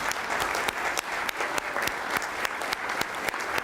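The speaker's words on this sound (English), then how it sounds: "Let's give them a round of applause." A crowd at a board meeting claps steadily, dense applause with sharper individual claps standing out throughout.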